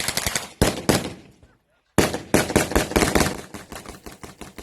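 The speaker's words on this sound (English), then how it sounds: "shooting from a Slavic squat. And he's finishing off his magazine" AK variant rifle fired by a shooter in a squat at an outdoor shooting event, loud close bursts of rapid gunfire that pause briefly and then resume in a fast run until the magazine is emptied.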